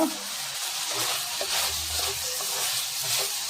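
Broad beans fry in hot oil with a close, continuous sizzling hiss and a light stirring scrape, steady for a few seconds with no talking.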